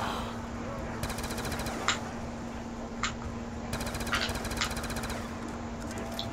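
Video game gunfire in Call of Duty Nuketown Zombies: bursts of rapid automatic shots come and go over a steady background hum, with a few sharper single cracks standing out, moderately loud.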